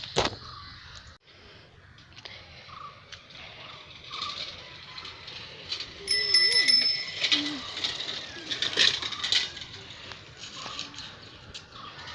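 A bicycle being ridden outdoors, with a soft rolling and rattling drone, birds chirping nearby and a few faint mechanical clicks.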